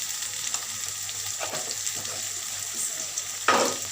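Onions frying with salt in a pan give a steady low sizzle with scattered crackles and a louder burst of spitting near the end, close by and without any voices.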